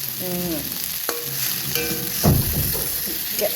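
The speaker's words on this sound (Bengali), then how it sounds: "ভালো করে ভাজতে হয় সবজি, যে কোনো সবজি খুব ভালো করে ভাজতে হয়" Mixed vegetables fry in a covered pan, giving a continuous loud sizzle with bursts of stirring and clattering. A few short tonal clinks sound from the utensils against the pan.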